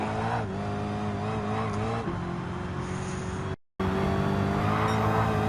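In Gran Turismo 7, race cars and hypercars, among them an Enzo Ferrari, hold a sustained engine drone that rises and shifts in pitch as they accelerate past. The sound is loud and continuous, with a brief dropout near the end.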